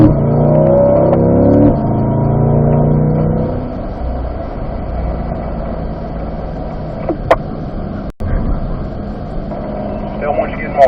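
C8 Corvette accelerating hard through the gears on the Spring Mountain East race track, the engine climbing loudly in pitch before easing into a lower steady drone, with a driver's voice talking over it.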